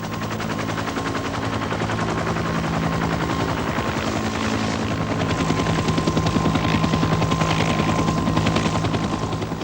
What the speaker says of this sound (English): Helicopters have to get in and out of the landing zones fast